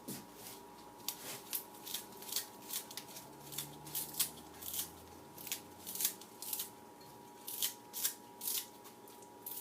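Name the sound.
cutting parsley into small pieces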